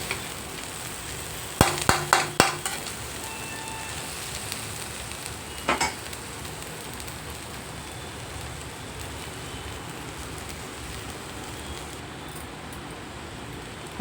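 Ivy gourd and grated coconut fry in a pan with a steady, soft sizzle throughout, broken by a few sharp scrapes and clinks of stirring near the start and middle.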